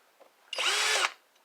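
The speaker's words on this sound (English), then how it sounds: "see if my drill bit will work on this." A power drill drilling into metal whines loudly for about half a second, a steady high-pitched grinding burst, then stops.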